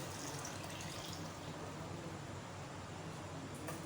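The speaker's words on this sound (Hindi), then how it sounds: "मैंने पानी रखा हुआ था चनों का बॉयल, वो डाल दें।" Water saved from boiling chickpeas poured into a cooking pot for chicken and chickpea pulao, a steady close rushing pour that runs without a break and with no talk over it.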